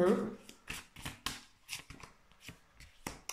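Tarot cards being shuffled in quick, irregular bursts of crisp riffling and slapping, close and fairly loud, alongside a voice speaking.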